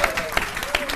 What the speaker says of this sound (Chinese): 大家掌声有请